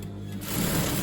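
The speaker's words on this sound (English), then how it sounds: "I'm going to literally just stitch up here to where that pocket stitching is" A sewing machine runs steadily, stitching a circle skirt seam up toward the pocket stitching, with a loud, close, continuous whirring drone that speeds up slightly after a brief start.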